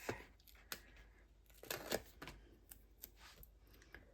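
Scissors snip through card stock while a Halloween card is being made with Stampin' Up supplies. A few quiet, sharp cuts and rustles come at irregular intervals, close by and with no voices.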